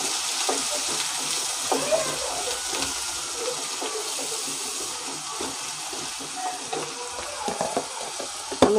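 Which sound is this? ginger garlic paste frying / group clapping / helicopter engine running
ginger garlic paste frying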